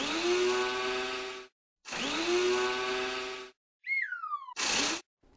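Cartoon-style power tool sounds at a race car pit stop during a wheel change: two long, steady whirring bursts with short gaps, then a quick falling whistle and a final short burst, loud and with no talking.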